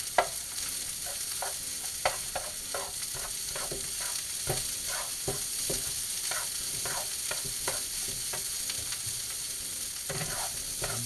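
Eggs sizzle in a hot pan while shrimp and pork fried rice is made, steady frying hiss broken by repeated scraping and stirring knocks of a utensil, close up with no talk.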